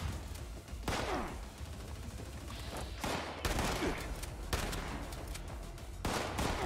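Sustained gunfire in the video game Fallout 76 aimed at the player, dense volleys with several sharper bursts, loud and continuous throughout with no talking.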